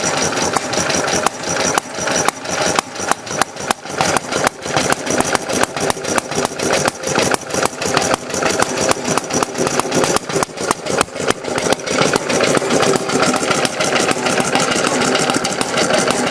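A century-old Briggs & Stratton Model F small engine runs steadily on its own, a loud, close, rapid stream of even firing pulses that keeps going throughout without any voices.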